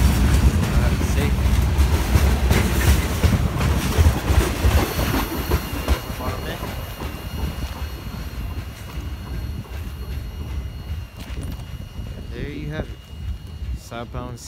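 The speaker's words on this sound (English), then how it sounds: "Southbound CSX, I believe it came from Waycross, Georgia" A southbound CSX freight train rumbles past at night in Opa-locka, with a loud, steady roar of wheels and rattling cars, occasional squeals near the end, and someone talking over it.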